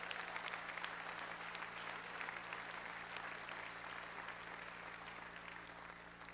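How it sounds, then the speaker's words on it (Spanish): A church congregation applauds during a Spanish-language sermon, a steady, fairly distant wash of many hands clapping that holds for several seconds, with a faint low hum underneath. "esto sí merece un aplauso"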